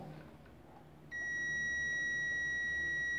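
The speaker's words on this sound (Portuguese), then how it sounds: "Bipa nos bornes" A digital multimeter gives a steady continuous beep during a continuity test across a magnetron's terminals. The tone starts abruptly after a quiet stretch and holds loud and unbroken to the end.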